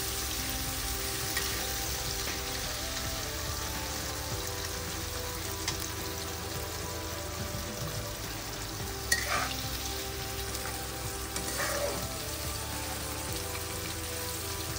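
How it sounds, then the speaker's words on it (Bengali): Chopped onion frying lightly in a pan for homemade sambar dal, giving a steady, even sizzle for the whole stretch with a couple of brief stirring clinks and no voices. "পেঁয়াজটাকে রয়েছে ভালো করে ভেজে নিতে হবে"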